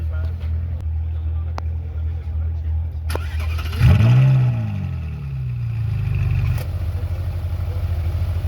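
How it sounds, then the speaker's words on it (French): A Ferrari 458 Italia engine fires up with a sharp starter whine and a loud rising roar, then settles into a deep, throaty idle nearby. "On va assister au démarrage de la 458 Italia."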